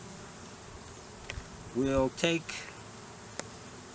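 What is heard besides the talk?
honey bees buzzing on a brood frame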